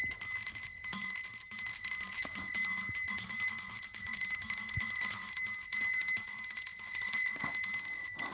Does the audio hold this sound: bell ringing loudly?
yes